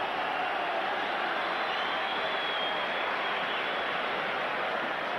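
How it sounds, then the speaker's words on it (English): Rangers fans at a 1993 League Cup final against Hibernian applaud and cheer as Ali McCoist appears on the track, a dense, distant stadium roar of clapping and shouting that holds steady and loud throughout. "Tremendous applause there from the Rangers fans when they spotted"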